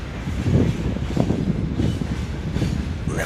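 Railway wagons roll past at Sayotes in Mangystau, a loud close rumble with rhythmic clanking and rattling of couplings and wheels, steady throughout.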